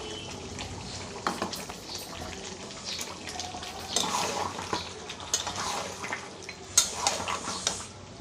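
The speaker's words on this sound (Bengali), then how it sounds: "এখানে মিক্সি ধোয়া জলটা দিয়ে দেবো" Water used to rinse a mixer grinder is poured into a pot of mutton curry, making soft splashing and sizzling with scattered clinks of a utensil against the pot, close by and moderately quiet.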